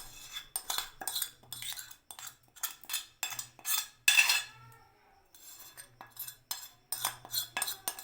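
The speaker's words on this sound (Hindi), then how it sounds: "इसको हम सबको ऐसे ही सबके ऊपर डाल देते हैं और अच्छे से हाथ की मदद से मिक्स कर देते हैं" Fish pieces being mixed with other ingredients by hand in a bowl, producing close, irregular bursts of wet squishing and light clinks against the dish, with short pauses between strokes.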